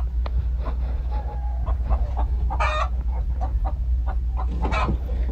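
Chickens cluck and murmur in a farm pen over a low steady hum, with a couple of brighter squawking calls rising out of the flock.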